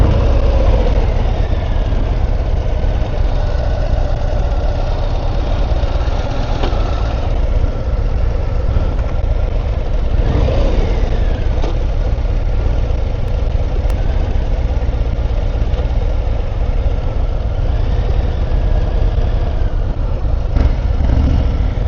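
A Harley-Davidson Road Glide Limited motorcycle engine idles steadily, a loud continuous low rumble that holds even throughout with no talking.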